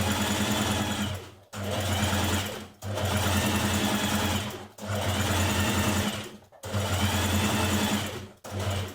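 A domestic sewing machine runs in steady bursts while stitching a dress seam, loud and close, with five runs of continuous whirring separated by brief stops.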